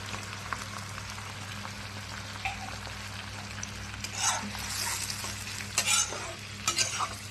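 Chilli paneer sauce boils in a pan with a steady bubbling sizzle under a low hum, and louder stirring scrapes near the end.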